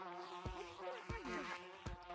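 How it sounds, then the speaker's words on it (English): Steady insect-like buzzing drones over a busy game soundtrack, with a few sharp thumps cutting through. "He's getting chased by bees right now, bro."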